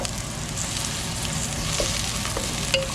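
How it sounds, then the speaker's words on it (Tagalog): Fatty pork and plenty of onions sauté in a small amount of oil, a steady, close sizzle with soft crackles and a brief clink of stirring near the end, no voices. "Kaya ako ginigisa-gisa ko ng konting mantika lang."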